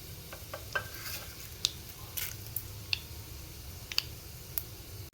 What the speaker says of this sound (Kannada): ಉದ್ದಿನ ಬೇಳೆ ಹಾಕ್ಕೊಂಡು ಫ್ರೈ ಮಾಡ್ಕೊಂಡಿದ್ದೀನಿ